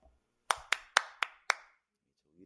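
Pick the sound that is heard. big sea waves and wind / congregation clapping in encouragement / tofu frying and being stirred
congregation clapping in encouragement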